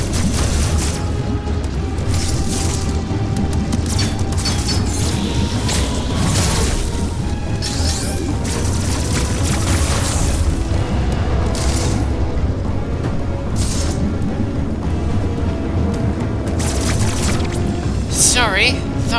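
Blaster shots and popping explosions of destroyed enemies from the video game Metroid Dread sound in scattered bursts against steady game music and effects, with someone talking over them throughout.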